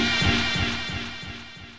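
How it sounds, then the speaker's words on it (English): Brass stab sample for a hip-hop beat with a delay effect added, producing a rhythmic train of echoing repeats that gradually fade away over under two seconds. "we're gonna add some delay to it to give it some room like this."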